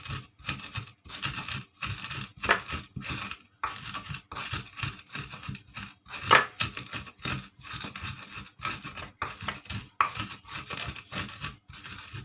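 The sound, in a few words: grinding sambal chillies with a stone mortar (ulek)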